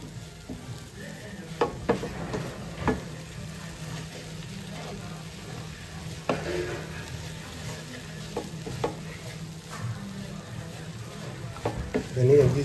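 Butter melting in a pan for semolina chips, a soft steady sizzle with scraping stir strokes and occasional clinks, close but fairly quiet, under light background noise.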